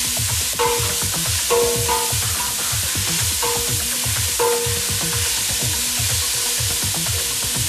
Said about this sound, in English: And now we caramelize the onions with the star anise together